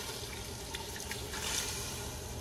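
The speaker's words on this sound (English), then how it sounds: "Okay, throw in the water." Water runs and splashes steadily into a pot of pork stew with tomato sauce, a continuous pouring hiss with a brief louder surge partway through.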